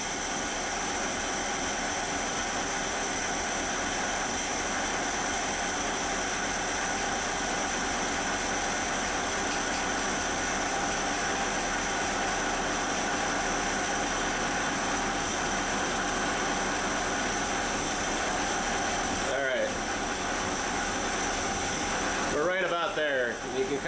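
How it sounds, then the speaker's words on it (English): A steady, dense engine rumble runs throughout with no clear gaps, idling roughly near the listener as the idle mixture screw is adjusted toward a misfire, with a couple of brief disturbances toward the end. "turning this in until you feel the engine kind of start to sputter"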